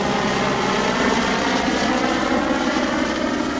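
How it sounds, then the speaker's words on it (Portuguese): Helicopter flying overhead above a river fouled by a mud spill, a steady loud rotor and engine drone holding constant throughout, with no voices. "o helicóptero sobrevoando o céu"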